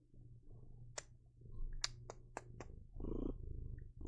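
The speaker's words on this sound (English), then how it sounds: "He is purring." A cat purrs softly and close, a low steady rumble broken by a few sharp clicks and taps in a quiet room.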